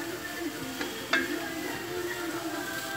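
Eru with rice being stirred in a pot, a steady soft sizzle with light scraping and one sharper clink partway through, close and continuous.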